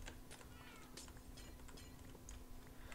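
Several cats meow in the video game Weather Adventures, short overlapping cries scattered over a steady hum, faint overall.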